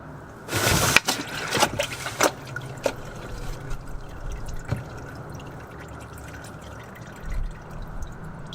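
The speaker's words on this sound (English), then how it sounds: "you're getting more oil coming out of the filter housing than normal" Motor oil drips from the filter housing of a Lexus LX570 into a drain pan: a quick cluster of close drips and small splashes at first, then sparser isolated drops over a faint, steady background.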